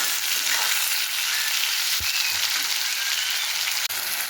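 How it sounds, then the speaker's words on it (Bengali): Steady, close sizzling of tomatoes frying in a pan, with a couple of brief knocks from a utensil. "এই যে টমেটোটা ভাজা ভাজা হয়ে গেছে"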